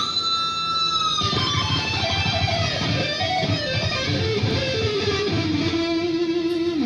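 A distorted electric guitar plays a lead solo, notes bending and sliding up and down over a gritty, saturated wash, loud and continuous.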